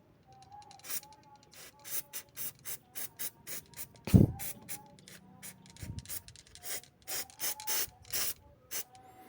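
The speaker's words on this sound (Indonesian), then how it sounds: "ini resinnya kita semprotkan dulu ya" A hand sprayer pumps resin onto a plastic water tank in a series of short, close hissing spurts with brief gaps between them, one louder thump near the middle.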